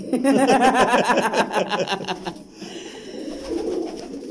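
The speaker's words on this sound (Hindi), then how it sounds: "ये दोस्तों सलारे टैडी हैं उस्ताद जी के, माशाल्लाह बहुत खूबसूरत कबूतर" Teddy breed show pigeons coo in a rhythmic, warbling series up close, with a softer bird call and a faint chuckle-like sound later on.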